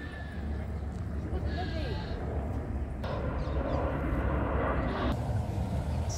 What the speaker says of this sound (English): I'm really sorry about the constant airplane noise